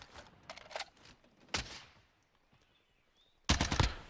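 Bursts of C58 assault rifle fire at long range in Warzone: a few short volleys early, a single sharp shot near the middle, then a dense, loud burst at the end, with quiet gaps between.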